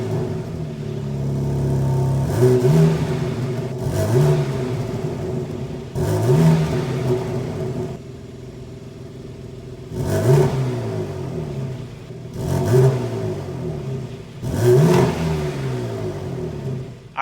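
A 2022 BMW M3 engine revs repeatedly, six sharp throttle blips rising and falling over a steady idle, loud and close with throaty exhaust.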